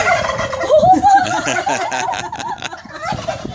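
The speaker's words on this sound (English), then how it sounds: "the turkeys want your attention over here" Two big turkeys on a sheriff's animal farm gobble in loud, warbling bursts close by, one call running into the next.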